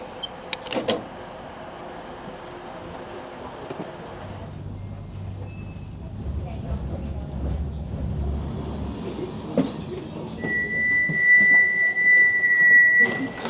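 A rumbling ride inside a tram, with clunks and rattles, a low motor hum, and later a high steady whine.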